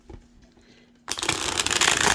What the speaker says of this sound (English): I don't typically riffle shuffle my decks, but decks like this I do on occasion